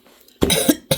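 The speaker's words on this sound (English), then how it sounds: "I don't mean to cough on you." A single close, forceful cough bursts out after a quiet moment, with a second short cough starting right at the end.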